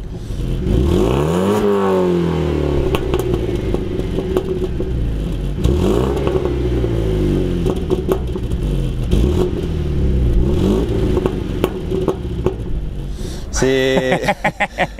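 A BMW 320i E90 with a non-original exhaust and M Performance rear silencer, its engine revving up and down repeatedly, loud and close, with a mechanical clatter and a brief change in tone near the end.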